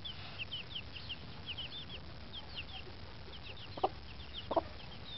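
Several hens cluck among a flock of chickens outdoors, one giving a food call, with soft repeated clucks throughout and two sharper, louder calls near the end, all fairly faint and distant.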